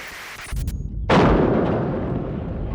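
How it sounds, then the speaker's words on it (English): Artillery guns fired by Kurdish forces at Kirkuk in 1991 give a sudden loud blast that rolls out into a long, slowly fading rumble, following a fainter thud and scattered noise. "These were Kurdish guns firing from Kirkuk at Saddam Hussein's loyalist forces"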